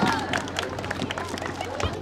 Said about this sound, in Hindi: तालियां हो जाए भाई के लिए।